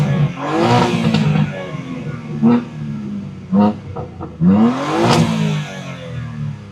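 Upgraded exhaust on a BMW M2 G87 in its loudest mode, revving hard in two big sweeps with sharp pops, bangs and crackles scattered between them, loud and close.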